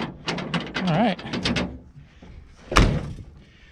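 Door of a 1978 GMC squarebody crew cab truck, with a single sharp slam or latch thunk standing out clearly after a stretch of voices talking; faint mechanism sounds trail off afterward.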